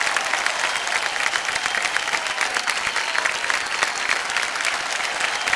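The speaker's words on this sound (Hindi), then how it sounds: "जोरदार तालियां बज जाए उनके लिए।" Steady, dense studio audience applause from a quiz-show crowd, loud and sustained throughout with no break, many hands clapping at once.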